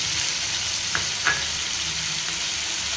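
Thinly sliced tomatoes and curry leaves sizzle in hot oil for lady finger fry, a continuous close hiss with a couple of quick clicks from the pan partway through.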